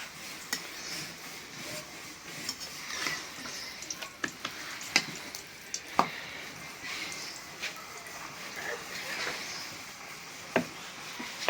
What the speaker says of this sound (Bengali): এইভাবে পরোটা বাজলে অনেক স্বাদ লাগে খাইতে